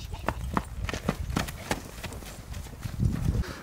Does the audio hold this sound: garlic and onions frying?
no